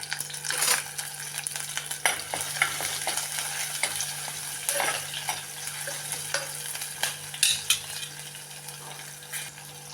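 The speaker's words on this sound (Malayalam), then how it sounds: "ഇഞ്ചി ചതച്ചത്, 4 പച്ചമുളക്, കറിവേപ്പില. അതൊന്ന് ശകലം മൂക്കട്ടെ." Crushed ginger, four green chillies and curry leaves fry in hot oil for a Kerala prawn curry, a steady sizzle and crackle broken by repeated scrapes and clinks of a spoon stirring the pan, close by with no talking.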